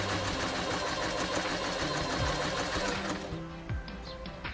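A Kreshay sewing machine runs steadily as it stitches fabric, with a dense continuous mechanical whir that shifts and slows slightly near the end as the seam is worked, close and fairly loud, with no talking.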